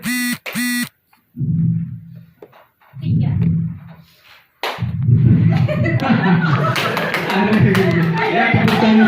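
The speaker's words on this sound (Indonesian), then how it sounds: "Ya, tepuk tangan untuk kita semua." A group clapping hands together in a classroom-style gathering, a burst of applause rising after short pauses and voices, then continuing loud and dense under chatter and laughter.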